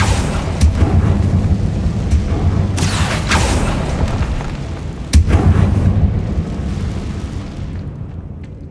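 Explosive spell blasts from a Hogwarts Legacy battle, heavy booming bursts with sharp cracks around three and five seconds over a dense, rumbling low-end bed, loud and close.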